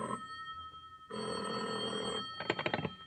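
A telephone bell rings in an old-time radio mystery drama: one long steady ring, then a quicker rattling burst at the end, heard alone.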